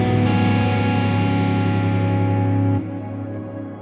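Electric guitar through a Quad Cortex set to a long reverb, a sustained distorted chord ringing with dense effects that drops in level near the end while the wash lingers.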